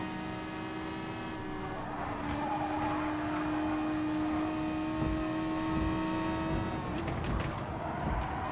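Race cars drive in Gran Turismo Sport, a continuous loud engine drone with shifting revs and tyre noise, and several cars sound close together throughout.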